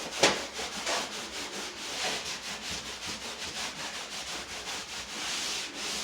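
Wet sanding of dried drywall joint compound, a steady close scraping and rubbing with rhythmic strokes and one sharper scuff near the start, continuing alone without talk.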